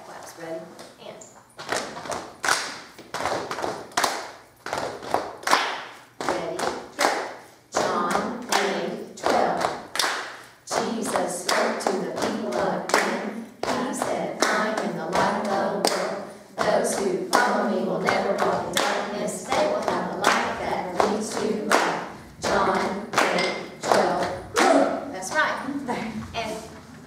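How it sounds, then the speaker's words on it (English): A group performs rhythmic pat-claps for an Orff-style Alleluia without instruments, sharp repeated slaps and claps in a steady beat, loud and close, with brief pauses between phrases. "let's do the pat claps"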